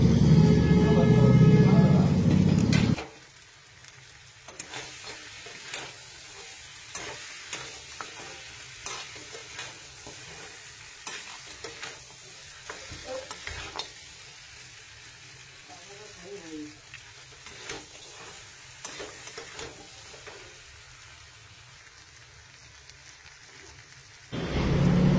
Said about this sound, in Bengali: মাটনটা মোটামুটি কষানো হয়ে গেছে